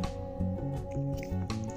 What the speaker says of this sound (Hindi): अब इसको हाथ की मदद से अच्छी तरह मिक्स कर देंगे।